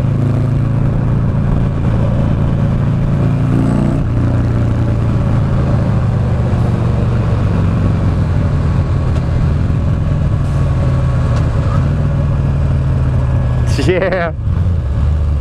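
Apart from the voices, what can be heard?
2009 Buell Lightning Long XB12SS motorcycle engine during ride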